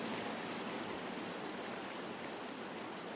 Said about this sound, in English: I'm just walking through the water.